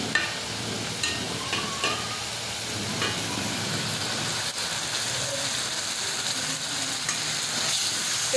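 Shrimp frying with flat beans in a pan on a home stove, giving a steady, close sizzle with soft crackles throughout and a few faint utensil taps, no voices.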